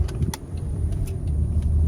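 A 2014 Honda Odyssey with a faulty transmission drives along, its engine a steady low rumble with road noise as it shifts into first gear, the sound fairly loud and even.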